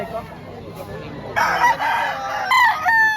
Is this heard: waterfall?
no